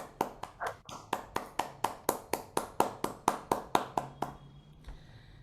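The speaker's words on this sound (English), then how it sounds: "A big round of applause for Toastmaster Ankit." Rhythmic, evenly paced clapping of about eighteen crisp claps at an online Toastmasters club evaluation contest, close and clear with no talk over it. The claps stop abruptly near the end, followed by a faint tap.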